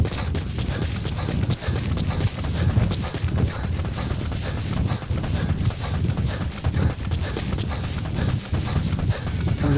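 Horse hooves clip-clopping in the Metal Gear Solid V video game, a steady rhythmic trot that runs continuously under dull game ambience.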